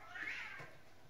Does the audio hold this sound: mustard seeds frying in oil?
no